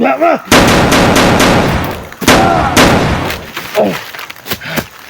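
Loud, close gunshots, a rapid volley of blasts followed by a few more scattered shots, with a shouting voice between them.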